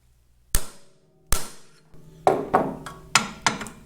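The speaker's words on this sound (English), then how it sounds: "we can use this punch and hammer to run that taper pin home" Sharp metallic hammer strikes on a punch driving a taper pin into a Caterpillar D2 pinion drive assembly: two spaced blows, then a quicker run of five ringing taps, close and loud with no talking.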